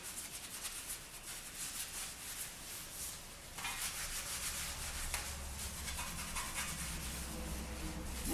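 A rag with soap and water rubbing down a garden tool with a wooden handle, a continuous close scrubbing and swishing that grows slightly louder partway through, with no speech.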